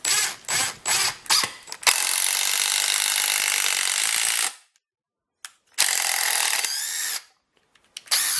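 A Dewalt 12V Max lithium-ion cordless drill driving screws whirs in short stop-start bursts, then runs in two longer steady spells, its pitch sagging slightly under load, close and fairly loud.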